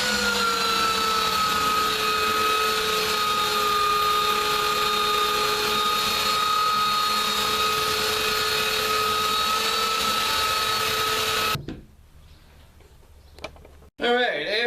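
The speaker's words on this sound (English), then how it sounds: "maybe we'll try running this belt sander on it." A belt sander on wood scraps gives a loud, steady mechanical whine with a high harmonic drone for about eleven seconds, then cuts off abruptly into near silence.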